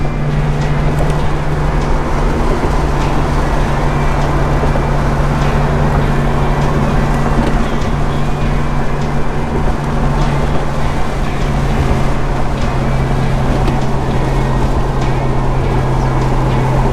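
A 1966 Plymouth Barracuda engine runs at a steady idle, a loud, even low hum with a constant drone that holds unchanged throughout, no speech over it.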